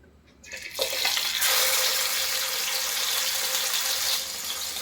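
Mackerel pieces dropped into hot oil in a pan burst into a loud, steady hiss that starts abruptly and continues close and strong to the end.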